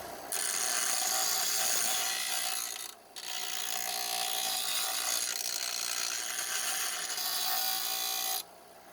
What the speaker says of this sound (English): just going to go back and forth with the bench grinder and some files and clean this up